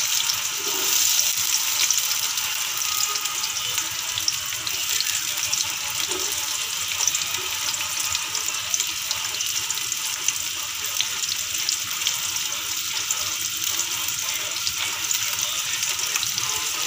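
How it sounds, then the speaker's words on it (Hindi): Finely chopped onions sizzle and fry in oil for dal karela, giving a steady hiss throughout, with light stirring noises and faint background sounds. "ये बारीक चॉप किया हुआ प्याज हम डाल रहे हैं अब इसमें।"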